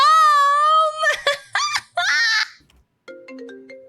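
An electronic phone ringtone sounds in an animated internet-history piece about the Ever Given canal blockage. A sustained melodic tone leads into laughter and giggling, and a short bright ringing tone returns near the end.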